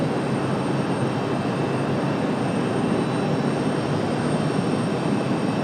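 At an airport, an aircraft auxiliary power unit runs loudly, a steady close roar with a constant high-pitched whine layered on top, unbroken throughout with no talk.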